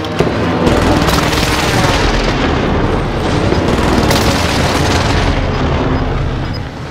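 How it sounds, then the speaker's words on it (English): Airstrike explosions in Call of Duty Warzone on Rebirth Island, a loud, continuous roar of overlapping booms and blasts sustained for several seconds before easing slightly at the end. "Mark target for airstrike. This is Phoenix 3. Strike inbound."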